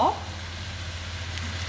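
Half a cup of mustard oil sizzling steadily in a pan for cooking mutton, a soft continuous frying hiss with a brief clink at the start.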